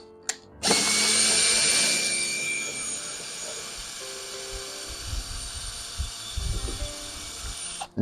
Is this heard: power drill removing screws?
yes